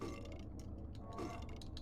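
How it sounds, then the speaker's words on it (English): Burping patient enemies in the horror game Silent Hill 4 give off a low, gurgling belch over steady game noise, quiet and continuous. "Fight our way past the burping patients."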